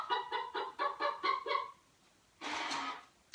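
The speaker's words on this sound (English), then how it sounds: "Every time I do a video, that chicken cuckoo clock goes off" A chicken cuckoo clock goes off indoors in a sewing room, giving six quick, loud clucking calls in a steady rhythm, then a pause and one longer squawk.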